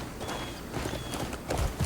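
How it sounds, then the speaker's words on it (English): Soft rhythmic clip-clop of horse hooves at a trot in the video game Crimson Desert, faint and steady, with a few heavier thumps toward the end. "Our little horse."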